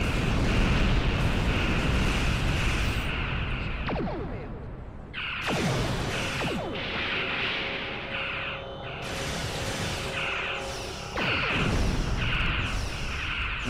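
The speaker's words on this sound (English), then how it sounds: "Full spread torpedoes" A full spread of torpedoes launches in a space combat video game, heavy roaring blasts in several bursts with whooshing trails and crashing impacts, loud and sustained with short gaps between volleys.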